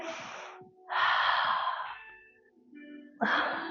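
A big deep breath drawn in during a Pilates glute workout, close airy inhales and exhales in a few long swells, heard alone without talk.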